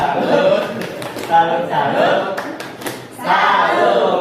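A group of adults performs a rhythmic clapping routine (tepuk salut) at a school positive-culture dissemination session, the claps loud and close over chatter, with laughter and voices mixed in and a brief pause before a fresh burst.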